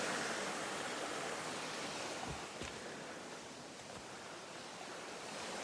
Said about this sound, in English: Sound of the brook